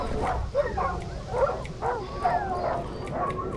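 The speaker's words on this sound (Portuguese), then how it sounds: "Ah, é o cachorro, talvez, que tá chorando" A dog whimpers and whines in the Darkwood survival horror game, a series of short, high, plaintive cries repeating every half second or so over a low ambient hum.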